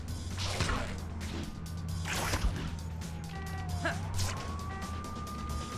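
Ambulance siren in the Ultimate Spider-Man video game, a wailing pitch that sweeps down and back up over steady game ambience and mid-level traffic noise, without speech.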